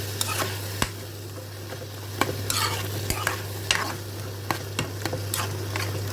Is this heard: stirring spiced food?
yes